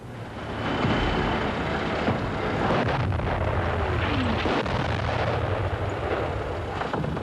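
Tank gun firing inside a World War I British heavy tank, heard as loud, sustained rumbling roar with heavy booms and machinery noise throughout, no clear separation between individual shots.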